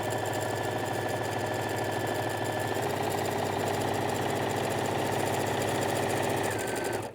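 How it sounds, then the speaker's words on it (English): A sewing machine runs steadily for several seconds, a dense mechanical whir with a fast repetitive rattle of the needle, close and continuous. "put them into the sewing machine, changing back to the foot to the straight sew foot"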